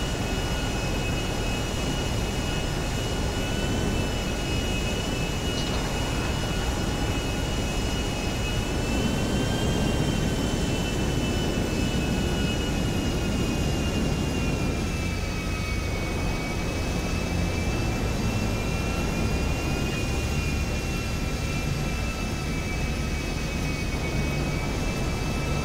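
A jet airplane engine roars steadily in Grand Theft Auto V, a loud continuous drone with high whine tones that shift slightly over time.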